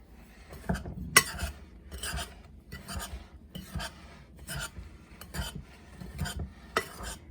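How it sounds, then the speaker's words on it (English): Dry ingredients for banana bread, flour with baking soda, salt and nuts, stirred in a bowl, giving repeated close scraping and rasping strokes with a few sharp utensil clinks against the bowl, with no talking. "We're just going to mix that well."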